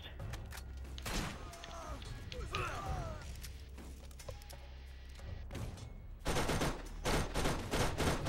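Rapid bursts of gunfire in the video game Borderlands, a dense fusillade of shots that swells louder near the end, with breathy vocal sounds mixed in.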